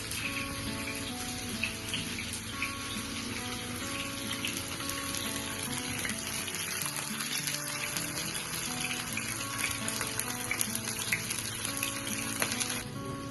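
Fish fries in oil on a flat tava with a steady, dense sizzling hiss. The sound stays even and unbroken throughout, with no talking.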